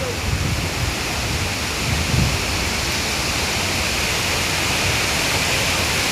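Steady broadband roar of a waterfall beside a cave, continuous and even throughout with a slight low surge near the start.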